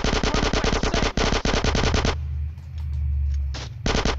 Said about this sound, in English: Missile launcher, go burr.